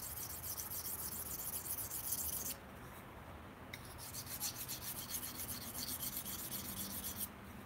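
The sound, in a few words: sharpening a knife on a stone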